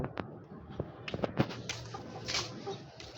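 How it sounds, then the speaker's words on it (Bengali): Pigeons on a rooftop on a cold morning give soft, faint coos, mixed with scattered clicks and light wing or foot noises nearby. "আজকে সকাল সকাল চলে আসলাম ছাদে কবুতর ছাড়ার জন্য"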